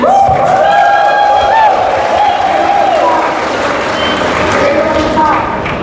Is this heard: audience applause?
yes